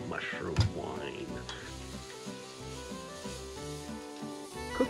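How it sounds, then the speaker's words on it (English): Shallots sauté in a pan for black oyster mushroom risotto, a soft, steady sizzle close by with a few stirring scrapes and a brief clatter near the start. "Put all the shallots in. I'm gonna saute these for about 2 or 3 minutes"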